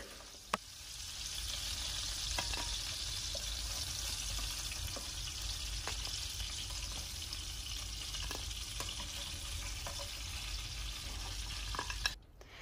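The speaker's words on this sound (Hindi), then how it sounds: "मैं यहाँ पे थोड़ा सा ऑयल लेके इसको थोड़ा सा फ्राई करूँगी" A little oil frying in a kadai while cooking crab curry, giving a soft, continuous sizzle with a few faint clinks, ending in a brief louder knock.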